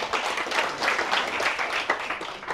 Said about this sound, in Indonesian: tepuk tangan dong buat Mas Gian